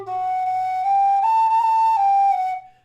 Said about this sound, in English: So obviously we're playing it on our whistle